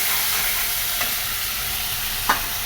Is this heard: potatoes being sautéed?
yes